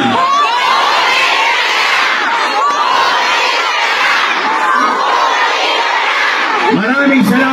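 Rally supporters in Manila shout together in a dense, loud crowd roar, many voices raised at once in sustained chanting that stays strong from start to finish.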